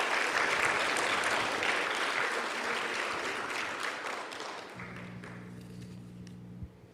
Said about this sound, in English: All right, let's give a big round of applause to all of our undergraduate presenters.